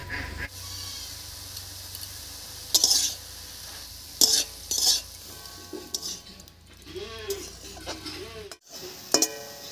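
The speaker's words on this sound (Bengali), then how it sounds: "ফোড়নের উপরে শাকটা দিয়ে বেশ কিছুক্ষণ নাড়িয়ে চাড়িয়ে নিয়েছি" Greens frying in a pan over tempered spices, stirred with steady scraping and a few sharp clanks of a utensil on the rim, under a low sizzle, close and moderately loud.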